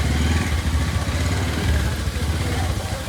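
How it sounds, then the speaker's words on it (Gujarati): A motorcycle engine with a fault makes an abnormal noise, a steady close-up rumbling roar that runs continuously and fairly loud without letup. "એન્જિનમાં અવાજ આવી ગયા"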